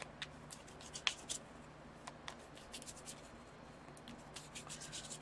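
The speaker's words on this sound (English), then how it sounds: "I'm going to shuffle this deck because I think you put the Exploding Kitten right on top." Exploding Kittens cards shuffled by hand during a tabletop game demo, a soft papery riffling and rubbing with a few sharper snaps, close and quiet with no talking.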